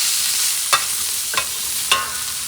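Fresh cauliflower and green beans go into a hot frying pan for a salmon paella, giving a loud continuous sizzle with three sharp stirring clacks spaced evenly across it, and no voices.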